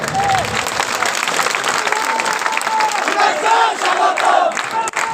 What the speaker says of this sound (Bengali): আমরা সকলে করতালির মাধ্যমে জনাব আমিনুল হককে শুভেচ্ছা জানাই